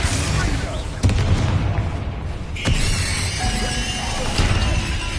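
Fiery spell blasts in Hogwarts Legacy combat: repeated loud booming bursts, sharp hits near 1 and 2.7 seconds, over a dense rumbling, crackling bed of battle noise.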